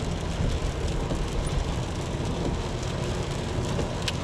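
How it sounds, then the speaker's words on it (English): Steady rain falls and hisses evenly on the surroundings during a drive through Gunpowder Falls State Park, a dense, continuous wash of sound with no voices. "And the rain's picked up again."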